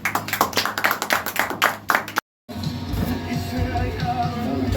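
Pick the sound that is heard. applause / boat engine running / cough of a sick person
applause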